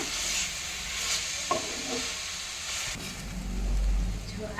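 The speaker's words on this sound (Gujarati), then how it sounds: "બધી જ ભાજી આપણે એમાં ઉમેરી દીધી છે એ બધું મિક્સ કરી લઈએ" Radish leaf greens are stirred in a hot cooking pan with a steady sizzle, scraping and tossing throughout. The sound is near and continuous, with louder spoon strokes at intervals and no talking.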